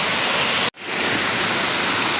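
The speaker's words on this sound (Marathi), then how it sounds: "त्या आग्राच्या वालाला पाणी वाढले दाखवतो बघा तुम्हाला." A swollen stream in the Konkan rushes loudly and continuously during heavy monsoon rain, a dense roar of water with a momentary cut near the start before the flow resumes.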